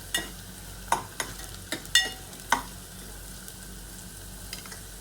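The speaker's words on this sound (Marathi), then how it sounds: "कांदा तेलामध्ये ब्राऊन होईपर्यंत चांगला परतून घ्या।" Onion frying in oil in a pan on a low flame, with a steady soft sizzle and several sharp clinks of a spoon or spatula stirring, spread across the clip with no talk.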